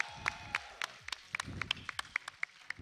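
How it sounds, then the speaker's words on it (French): Sparse, scattered clapping from a small audience greets an esports team on stage at a Rocket League playoff final, with individual claps standing out against low background noise. "Un tonnerre d'applaudissements pour IDMR"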